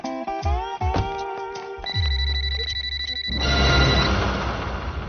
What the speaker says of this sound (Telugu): నీకు ఫోన్ ఏంట్రా?